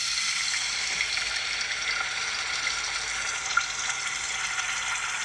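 Tomato and garlic pasta sauce sizzling and bubbling in a hot pan, a steady close frying hiss that holds evenly throughout with no talking.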